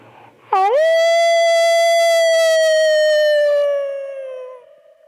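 A human voice imitates a wolf howl during a combined mimicry act at a university youth festival: one loud, sustained, rising-then-steady tonal howl that tapers off slowly, heard alone.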